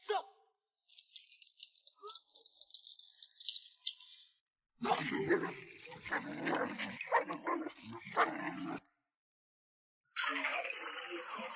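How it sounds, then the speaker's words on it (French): Dogs fighting, with sharp barks and whimpers in bursts separated by silent gaps, close and fairly loud. "Ah, c'est donc un combat de chiens."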